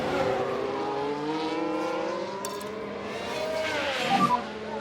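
Formula 1 race cars, one a Williams, overtake in the F1 Manager 22 racing game, producing layered high engine whines that rise and fall in pitch as they pass, steady and moderately loud with a brief blip near the end.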